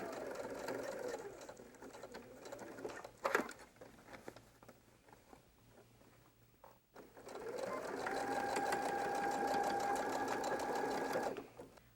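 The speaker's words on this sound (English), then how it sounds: "we'll be sewing this edge using 3/8 inch seam allowance" A sewing machine runs along the edge of a quilted dumpling bag in two fairly quiet bursts of steady whirring, separated by a pause with faint handling noise.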